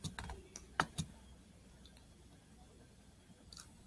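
A few quick, soft keystrokes on a Chromebook keyboard, clustered at the start with a couple more later, faint and close.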